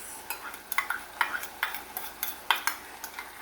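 Garlic cooking in a pan for a Cajun chicken and sausage risotto, stirred with a spoon, giving a run of close, fairly quick scraping strokes over a faint background sizzle, with no voices.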